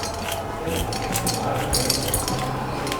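Back of a metal spoon scraping seeds out of green chillies for mirchi bajji, soft continuous scraping with light clinks and taps against the chilli and dish, close and quiet, with no speech.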